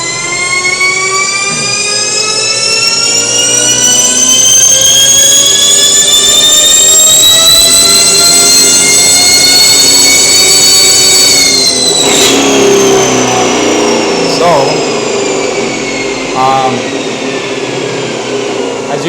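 Electric car on a high-power run with cooling fans going, a loud close whine climbing steadily in pitch for about twelve seconds, then dropping away abruptly over a constant rushing fan roar.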